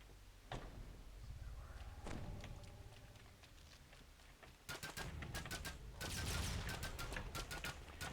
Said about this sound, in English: But the Fusillade is certainly doing a good job for us.